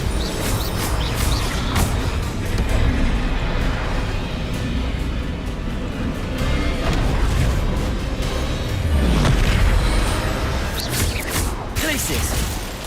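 Bombarda blasting spell from Hogwarts Legacy, a loud rumbling explosion with crashing debris that swells near the end, under a voice talking.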